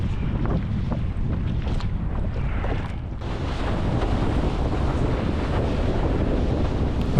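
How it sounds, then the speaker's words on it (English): Strong wind buffets the microphone outdoors on the water aboard a small sailboat, a steady loud roar with gusting rumble and waves washing around the hull, no talking. "now the wind's come up a little bit"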